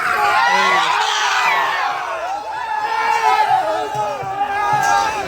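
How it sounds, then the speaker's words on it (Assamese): A loud crowd cheers, whoops and shouts right after Raju Bora's buffalo wins a buffalo fight, with overlapping excited voices filling the whole stretch. "জয়লাভ কৰাৰ পিছত ফূৰ্তি উল্লাসৰ পৰিৱেশ ৰাজু বৰাৰ ৰন্থলী মহটো"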